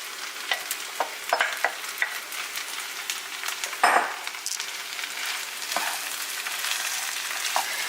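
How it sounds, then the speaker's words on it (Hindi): Frozen peas go into a hot pan and get stirred, giving a steady sizzle with repeated scraping and clacking strokes and one sharper clatter midway. "सो अब जाएंगे इसमें फ्रोज़न पीस."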